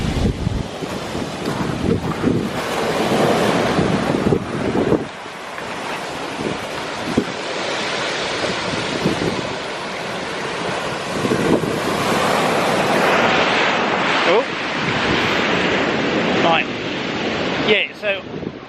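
Waves break on a Suffolk beach at night during a fishing session, with heavy wind buffeting the microphone and steady, loud surf throughout.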